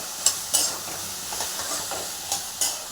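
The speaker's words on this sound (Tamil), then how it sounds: "எல்லாத்தையும் நல்லா மிக்ஸ் பண்ணி வச்சுக்குவோம்" Potato mixed with other ingredients in a hot pan for a greens rice dish: soft scraping strokes with a few distinct spoon taps over a light sizzle, close and steady with no talking.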